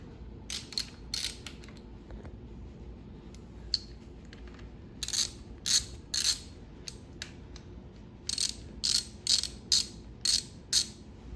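T30 Torx screws being loosened on a KTM 300 XC-W throttle tube, bursts of quick ratcheting clicks in several groups with pauses between, close and crisp over a quiet background.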